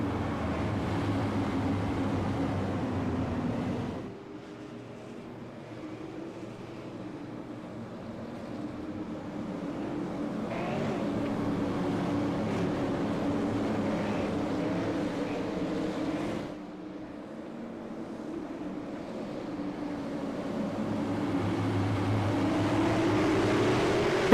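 Super Late Model race cars thunder around Nashville Fairgrounds Speedway in a dense, continuous roar that dips briefly twice before swelling again as the pack passes.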